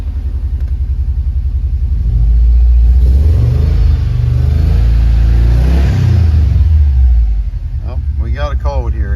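A 2007 Subaru Outback with low fuel pressure idles and revs close by, a loud steady engine rumble that swells in the middle, with a voice speaking briefly at the end.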